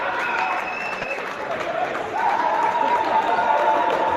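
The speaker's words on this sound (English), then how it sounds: "the crowd erupts" A basketball crowd cheers and applauds after a slam dunk, a dense wash of clapping and shouting that swells and stays loud, with a whistle tone heard early on.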